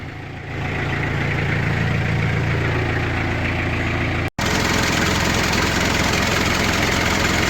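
A Mk1 Ford Ranger diesel engine idles steadily after being left running all night, a loud, constant low rumble with a brief dropout midway before the same even drone resumes.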